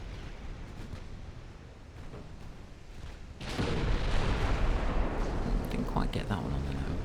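A torpedo strikes a warship in the naval game Ultimate Admiral Dreadnoughts, bursting into a sudden loud, rumbling explosion midway that stays heavy and roaring after a quieter stretch of ocean and engine ambience.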